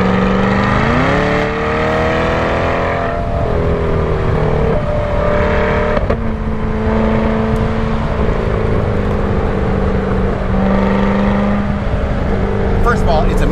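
A Chevrolet C8 Corvette Stingray Z51 convertible with a mid-engine layout heard from inside while driving, a loud steady engine drone with pitch shifts as it revs and changes gear, continuous and close throughout.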